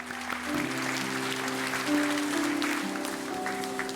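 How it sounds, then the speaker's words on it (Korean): A church congregation at a Korean Sunday worship service gives big applause to encourage the high school students, with steady clapping over sustained tones in a large hall. "큰 박수로 우리 다음 세대 한번 격려하기 원합니다."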